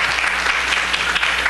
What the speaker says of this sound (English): We'd like to give our presenter a round of applause